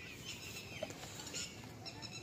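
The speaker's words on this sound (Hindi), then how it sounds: "ये देखें बकरी क्रॉस करवा रहे हैं" Faint goat bleats from a Rajanpuri goat during mating on a farm, short and distant under steady outdoor background noise.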